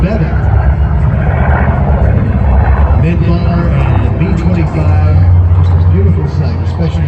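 A B-25 bomber's piston engines drone loudly at a Sun n Fun airshow, a steady low roar throughout while an announcer talks over it.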